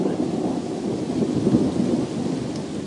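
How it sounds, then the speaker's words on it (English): Thunder rumbles right overhead during a rainstorm in a pine forest, a loud continuous low roll with steady rain hiss across the whole stretch. "That thunder's right overhead now."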